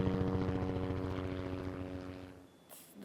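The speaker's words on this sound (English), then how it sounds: "we only hear like a helicopter going around" A helicopter circles overhead, its steady rotor and engine drone loud at first, then fading away until near silence returns with a brief noise at the end.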